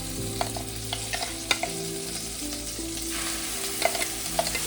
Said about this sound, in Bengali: মশলাটা দিয়ে দিয়েছি এবার আমি মশলাটাকে মিনিট দুই একটু ভালো করে নেড়ে নেব